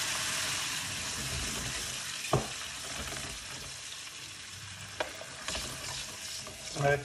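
Tomato sauce poured into a hot pan with chili pepper, a soft broad sizzle and hiss with a few sharp clicks of a utensil, fairly quiet and close, no speech.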